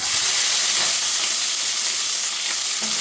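Sliced onion with whole spices (cinnamon, cloves, cardamom) sautéing in a hot pan for egg pulao, giving a steady, fairly loud broadband sizzle with faint stirring scrapes and no voices.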